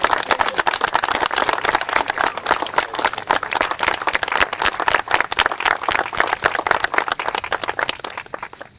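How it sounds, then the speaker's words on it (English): A community gathering applauds grant recipients of a violence prevention partnership: dense, continuous clapping from a crowd, loud and sustained from start to finish. "So can we please have another round of applause for our grant recipients?"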